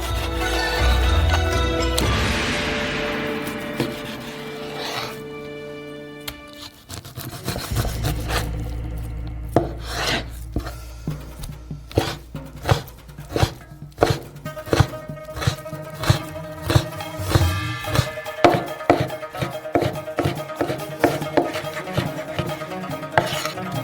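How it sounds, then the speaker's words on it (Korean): Knife chopping pork thinly on a board, a run of sharp irregular taps that grows denser and quicker in the second half, close and fairly loud, with kitchen clatter at the start and no talking. "돼지고기도 똑같이 잘라주세요."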